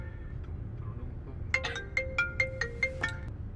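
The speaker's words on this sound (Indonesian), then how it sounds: "Pak Bos pakai telepon lagi." A telephone ringtone starts partway through as a bright, repeating electronic melody of quick beeping notes in a steady pattern, loud and clear over a faint, low background murmur.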